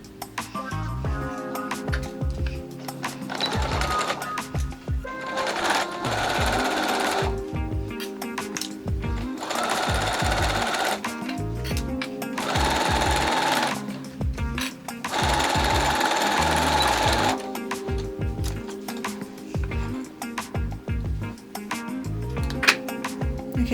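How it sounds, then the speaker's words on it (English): A sewing machine stitches a fabric seam on a DIY height chart, running in several steady rattling bursts of a few seconds each, with short pauses between them, close and fairly loud. "now I'm just going to sew to try and sandwich that free edge in"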